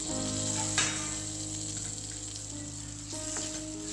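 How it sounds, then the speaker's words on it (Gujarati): Sliced onions sauté in a hot pan with a steady, close sizzle and a couple of brief stirring scrapes, with no voices. "હવે આપણે 2 થી 3 મિનિટ સુધી ડુંગળીને સડવા દઈશું"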